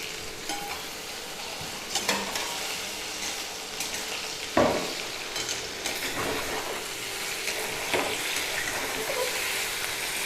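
Onion frying in a pan on a home stove, a moderate sizzle with a few scattered stirring knocks and scrapes, fairly close and without speech.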